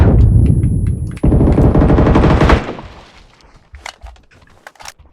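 Rapid bursts of DMR rifle fire in an online shooter game ring out loud and close, a fast string of shots for over two seconds, then scattered quieter clicks and thumps.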